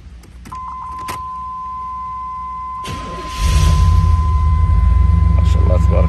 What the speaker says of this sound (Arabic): شغل السيارة الآن.